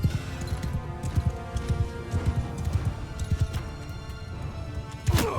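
Cavalry and horse archers gallop across a battle in Mount & Blade II: Bannerlord, with dense overlapping hoofbeats clattering throughout and a sharp crash near the end.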